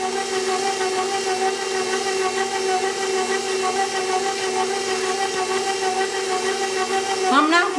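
An electric mixer kneads naan dough with a steady, loud motor drone and a rhythmic churning pulse that holds throughout, then the pitch rises quickly at the end as the speed changes.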